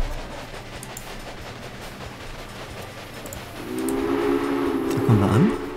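A train pulls into a station in the video game Railway Empire, a steady rolling rumble building before a clear, loud horn or whistle blast sounds near the end.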